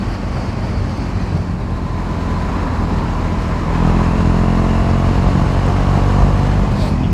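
A KTM Duke 390 single-cylinder motorcycle with a louder exhaust, ridden in the rain, gives a loud, continuous low rumble close to the rider that grows a little stronger partway through, with road and wind noise mixed in.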